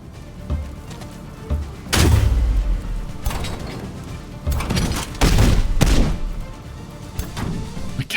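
In the Age of Wonders 4 strategy game, a cannon fires a sundering shot in a volley of heavy booms and thuds, several sharp blasts striking in irregular bursts over a rumbling battle backdrop.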